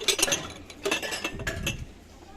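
Sturdy embossed Royal drinking glasses, 350 ml, clink together in a few sharp, bright taps spread across the moment, near and moderately loud with no talking.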